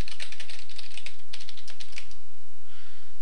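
Rapid keystrokes on a computer keyboard as a password is entered at a router login, a close, fast run of clicks that pauses and then resumes briefly.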